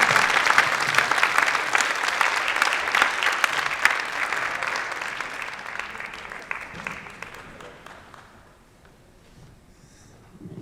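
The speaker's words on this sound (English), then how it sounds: "can we have a round of applause for President Vincent Boudreau?" Ceremony audience at a literary festival evening gives a full round of applause, dense and loud for several seconds before thinning and fading to near quiet, then a faint sound at the very end.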